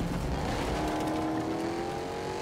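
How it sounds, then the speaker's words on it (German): Vehicle driving in the Fortnite video game, a steady engine drone with a rising tone heard continuously and fairly loud, with no voices over it. "schnappt euch hier ein Fahrzeug. Fahrt dann zu den neuen Orientierungspunkten hin."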